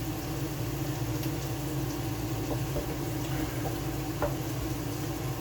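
Food boils in a pot, a steady, close bubbling hiss with a few soft pops rising out of it, and no voices.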